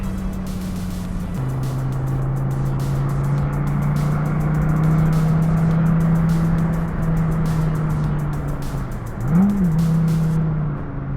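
A Dodge Viper GTS-R race car drives on a track, its loud, steady engine drone holding near and alone for the whole stretch, with a brief pitch dip and rise near the end as it shifts or eases off.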